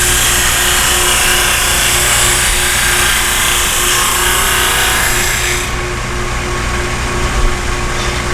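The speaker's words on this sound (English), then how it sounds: "Sanding." A loud, continuous whir and abrasive grinding of a 16-32 drum sander sanding wood runs throughout, easing slightly in brightness near the end.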